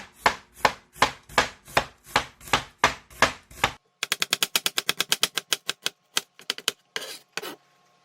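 Onion being sliced thinly with a knife on a cutting board: a steady series of crisp chopping knocks, first slower and evenly spaced, then a quicker run of close, sharp cuts before it tapers off.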